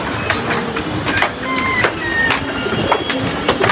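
A khoyri glister knot pigeon coos nearby in soft repeated calls, with faint clicks and ambient noise around it.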